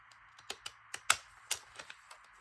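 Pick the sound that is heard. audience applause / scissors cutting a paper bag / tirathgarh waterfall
scissors cutting a paper bag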